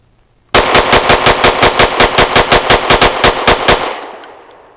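Canik METE MC9L pistol fired outdoors in a rapid string of about eighteen sharp, loud, evenly spaced shots lasting over three seconds, then a fading echo.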